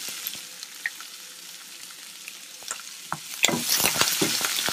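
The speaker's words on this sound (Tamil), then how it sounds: "வெங்காயத்தையும் போட்டு வதக்கலாம்." Onions and curry leaves sautéing in a pan of oil after urad dal has browned, for a South Indian vendakkai poriyal; a steady close sizzle with crackles and a few stirring scrapes, growing louder near the end.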